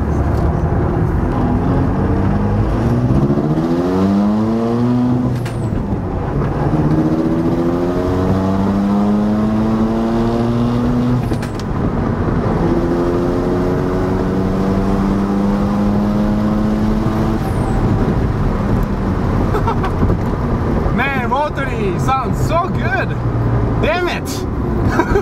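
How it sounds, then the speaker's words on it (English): A Mazda RX-7 FD rotary engine pulls hard through first gear, heard from inside the car: the loud droning engine note climbs steeply in pitch over several seconds, then drops and rises again across repeated pulls, with talking over it. "I'm gonna do a quick first gear pull again here"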